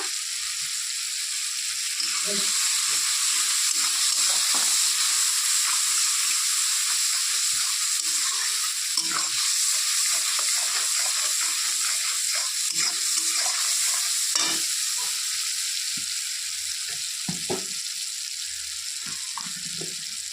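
Chopped ginger frying in a pan of oil while cooking a fish dish: a steady loud sizzle and hiss throughout, with small crackles and faint stirring noises close by.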